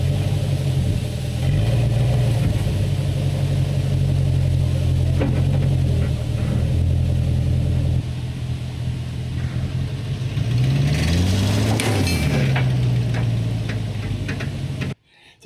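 A truck engine revs hard while trying to pull a trailer loaded with heavy equipment forward, the note rising and falling in a couple of loud surges over a steady drone, with no talk.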